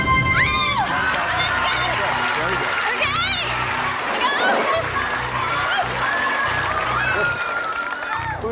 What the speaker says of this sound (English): This cheering section?